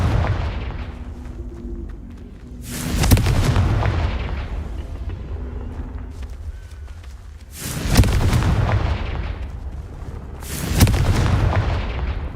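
Fiery Confringo spell blasts go off in Hogwarts Legacy, three loud booming explosions at roughly three, eight and eleven seconds, each with a crackling tail over a steady low rumble of game ambience.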